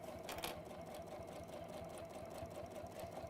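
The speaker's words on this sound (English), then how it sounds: "And then just top stitch" A sewing machine hums through a continuous run of top stitching, a fast even whir with a faint rhythmic knock, heard quietly with no voices.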